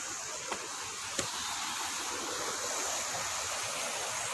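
Seven Falls waterfall at Lake Sebu roars as a steady, dense broadband rush of falling water, with a couple of faint clicks early on and no talking.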